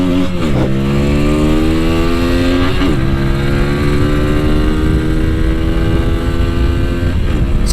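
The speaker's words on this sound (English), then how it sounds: "there we have a Pulsar. It is a 150. Let's race." A Bajaj Pulsar 150 motorcycle racing, its engine revving up in rising pitch through several gear shifts, a loud, continuous close-up drone with a harsh buzzing tone.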